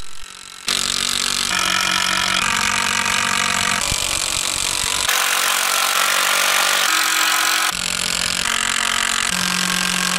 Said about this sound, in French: j'ai coupé les chevrons de 4 mètres au milieu pour faire des pieds de 2 mètres